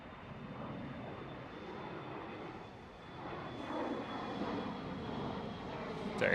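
KLM Cityhopper Embraer E175 regional jet at Schiphol, a faint, steady engine rumble that swells slightly midway, heard at a distance.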